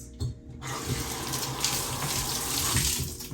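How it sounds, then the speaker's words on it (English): Tap water running steadily into a sink as hands are rinsed, a close, continuous splashing rush with no pauses. "Let me rinse my hands."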